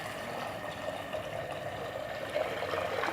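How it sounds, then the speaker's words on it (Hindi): Water pours into a cooking pot in a steady, gentle trickle, faint and continuous for a few seconds. "अब मैं इसके अंदर ये पानी डालूँगी"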